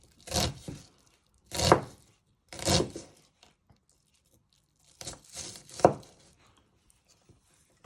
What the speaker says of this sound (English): And you just want to dice them.